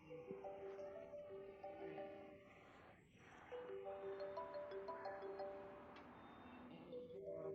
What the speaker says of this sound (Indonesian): teleponnya berdering